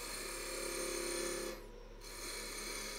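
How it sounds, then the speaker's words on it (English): A parting tool cuts into wood spinning on a lathe, giving a steady rasping scrape that holds for about a second and a half, drops off briefly, then resumes more quietly. "Parting tool."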